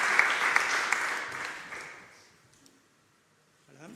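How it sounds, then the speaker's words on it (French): Audience applause for a speaker at a round-table on industry, water and ecological transition fades out over about two seconds into near silence, and a faint voice starts at the very end. "Merci de l'applaudir."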